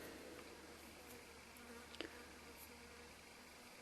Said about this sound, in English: I don't know if you can hear that fly buzzing around